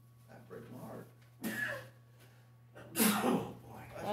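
Two sneezes burst out indoors during a meeting, the second louder and closer, with breathing and murmured talk in between.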